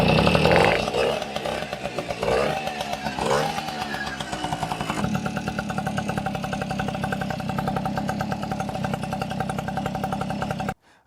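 A Tomos A35 moped's small two-stroke engine runs during an ignition timing check, a loud, buzzy, rattling idle with a few throttle blips early on before settling into a steady high drone that cuts off abruptly at the end.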